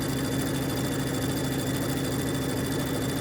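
A Brother sewing machine fitted with a 7 mm walking foot runs steadily at speed, a continuous close whirring and rapid mechanical chatter with no pauses.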